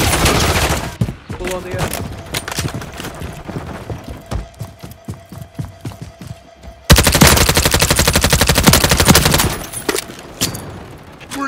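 Loud rapid gunfire in Call of Duty Modern Warfare 3 on PS5, with sharp staccato bursts and pauses that give way to a sustained, heavier volley of close shots. Voices shout over the firing.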